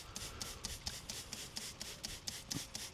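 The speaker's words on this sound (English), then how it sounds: "I gotta clean this shaft up real quick" A tractor PTO shaft being rubbed clean by hand, giving quiet rhythmic scrubbing strokes about three or four per second, close and soft, with no talking.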